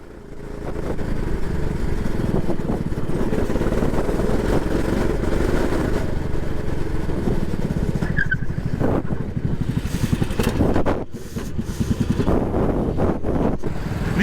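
A racing kart engine drones loud and steady with heavy wind buffeting as the kart heads into the pits during a four-hour endurance race, the pitch dipping briefly near the end before picking up again.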